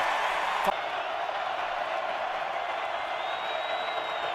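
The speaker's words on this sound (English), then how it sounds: "trying to get through the crowd noise" Stadium crowd noise at a college football game between UT Martin and Montana State, a steady, dense roar of many voices that holds level throughout with a brief sharp accent early on.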